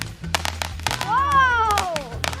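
Small consumer fireworks and a smoke bomb go off in a rapid burst of sharp crackles and pops, with a rising whistle-like tone in the middle, as people talk excitedly throughout.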